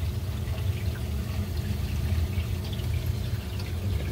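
A Reef Octopus 150SS space-saver protein skimmer runs on its max setting, giving a steady bubbling, trickling water sound over a low hum. It is close and continuous, with no talking.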